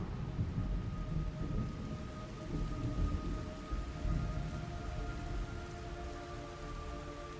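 Steady heavy rain pours through a video game scene, a dense continuous hiss with low rumbling thunder underneath and faint tonal hum lines, loud and unbroken with no talk.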